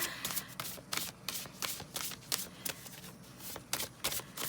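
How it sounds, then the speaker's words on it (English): A deck of tarot cards shuffled by hand in quick repeated riffles, a rapid run of crisp papery slaps at close range, steady and uninterrupted without talk. "sometimes I shuffle off camera"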